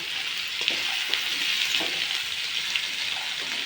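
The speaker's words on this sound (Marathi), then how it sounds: "थोडं परतून घेऊया तर हे चांगलं परतून झालेलं आहे" Spiced masale bhat rice with coriander sizzles while being sautéed in a pan, a constant close frying hiss broken by soft spatula scrapes, with no speech.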